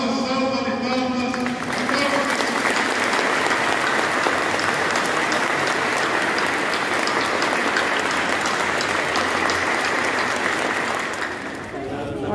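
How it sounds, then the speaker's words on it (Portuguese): A crowd at a Corpus Christi mass held in aid of Rio Grande do Sul breaks into warm, sustained applause, loud and dense for about ten seconds before tapering off, with a voice briefly audible at the start. "Uma calorosa salva de palmas."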